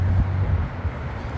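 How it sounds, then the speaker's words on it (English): Low, steady rumble of wind buffeting the microphone mixed with a dull roar of nearby freeway traffic, continuous and fairly loud. "We're right next to the freeway, and it's also very windy."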